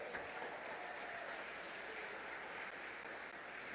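A church congregation applauding during an evening worship service, a dense, even roar of many hands clapping together, steady and unbroken and heard from some distance.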